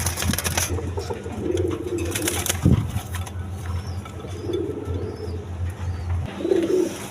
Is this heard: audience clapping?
no